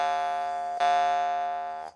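A Yakut khomus jaw harp rings with a bright, buzzing metallic drone, is plucked again partway through and sustains strongly before fading out, close and alone.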